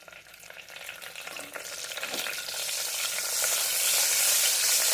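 Masala spices frying in a pan for a spinach vegetable pulao, a hissing sizzle that swells louder and brighter over a few seconds with light stirring scrapes, no speech.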